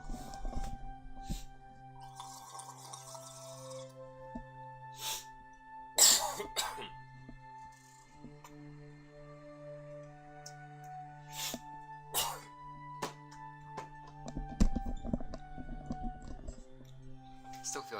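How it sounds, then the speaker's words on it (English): A person clears their throat in several rough, scratchy bursts spread across a quiet stretch, with a few faint ticks and brief murmurs between them. "I just gotta clear my throat"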